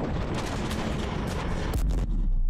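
Gunfire in the video game Mass Effect 3, a dense rumbling barrage of shots and booms with a sharper blast near the end, no voices.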